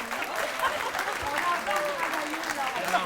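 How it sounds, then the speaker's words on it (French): An audience applauds volunteers at a hospital foundation's 40th anniversary event, a dense, steady patter of many hands clapping for about three seconds at moderate distance. "un peu d'applaudissements pour nos bénévoles"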